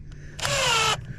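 A power drill drives an exterior deck screw while mobile home underpinning is fastened, one loud close whirring burst of about half a second between quieter background noises.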